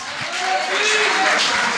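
A church congregation breaks into brief applause and cheers during a sermon, a short swell of clapping and voices that rises and fades quickly.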